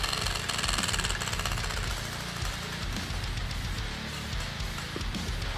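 A prize wheel spun for a backer giveaway whirs with a dense, steady rapid clatter of its pointer ticking against pegs, loud and continuous throughout with no voices.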